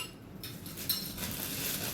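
A small metal lid clinks once onto a little oil lamp, a single light metallic tap near the middle over a faint steady background hiss.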